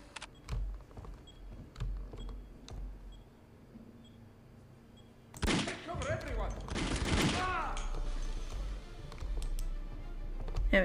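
Video game gunfire in Cold War using rubber ammunition: a quiet stretch of faint clicks and ticks, then a dense burst of rapid shots with whizzing, ricocheting tones lasting a few seconds before settling back to low background noise.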